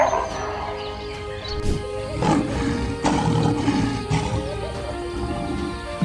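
A lion on the African savanna gives deep, powerful roars, several loud rumbling calls in succession, close and dominant over the ambient wildlife noise.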